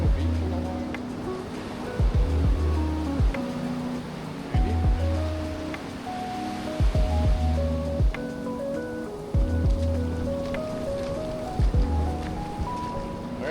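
Waves breaking on a beach during a walk, a steady wash of surf with repeated surges and a continuous low rumble, fairly close and loud.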